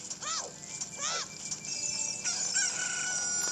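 Cucco chicken sounds from The Legend of Zelda: Ocarina of Time 3D: a few squawking, crowing clucks, sharp and rising-falling, followed by brighter chirpy calls, all moderately loud in the game audio.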